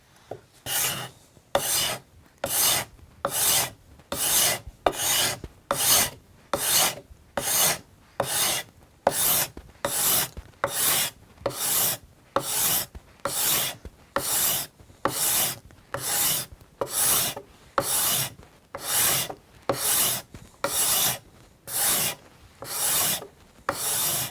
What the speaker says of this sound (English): grabbing a card scraper and giving it a couple passes